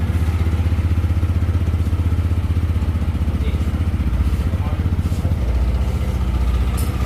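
A motorcycle engine with a fault, running at a steady idle, thumping in a fast even rhythm close by. The loud, continuous rumble holds for the whole stretch.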